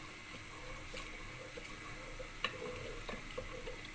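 Milk cream (malai) cooking down into ghee in a pot, stirred continuously: a faint, steady bubbling sizzle with soft intermittent stirring scrapes and a few light clicks of the spoon.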